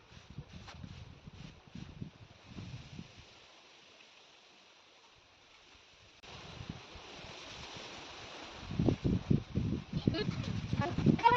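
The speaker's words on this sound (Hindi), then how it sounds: "हवा चल रही है" Wind blowing outdoors makes a steady, rushing roar that drops away briefly, then returns and builds louder in gusts, with a person talking over it.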